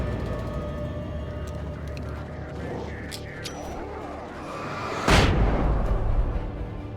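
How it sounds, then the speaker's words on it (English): A flashbang grenade goes off in the video game Alan Wake: one sudden loud blast partway through, cutting through steady low game ambience and trailing off into a rumbling tail. "I do love my flashbangs in this game, though."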